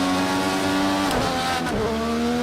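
A race car sliding in Project Cars 2, its engine droning steadily and loudly while brief tire squeals cut in during the slide.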